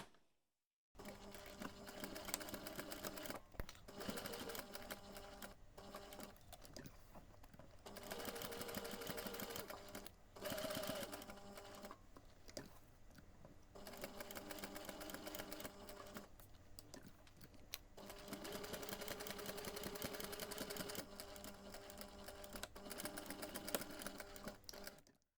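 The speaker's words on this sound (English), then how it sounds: "we are going to take this to the machine and we are going to sew a box just to anchor it in place" A sewing machine stitches a small anchoring box through fabric on an earbuds holder, close, fast rhythmic whirring in several bursts separated by short pauses.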